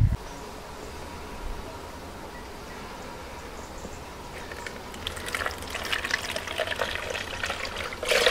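Liquid is pressed through a sieve in an off-grid homestead kitchen: a quiet, close trickle and dribble throughout that grows louder and more splashy toward the end, with no talk.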